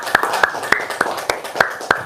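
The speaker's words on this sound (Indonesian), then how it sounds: "tepuk tangan dong" An audience claps at a live stage event: about seven sharp, evenly spaced hand claps in a steady rhythm, close and clear over a faint background murmur.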